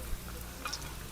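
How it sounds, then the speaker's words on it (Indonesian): Cassava pieces frying in oil until golden brown for cheese cassava, giving a faint, steady sizzling hiss with a few small pops. "Ya intinya goreng aja sampai kecoklatan, sampai bentuknya kurang lebih begini nih"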